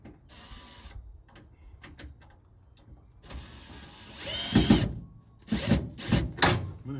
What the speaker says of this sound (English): So, I can start screwing it.